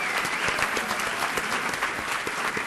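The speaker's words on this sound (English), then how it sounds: "One last round of applause for everybody, teachers, students." A school awards audience gives teachers and students a last round of applause, a steady wash of many hands clapping that sounds somewhat distant in a large hall.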